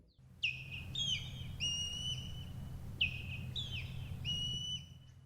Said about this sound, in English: The call of the osprey is a little bit high-pitched.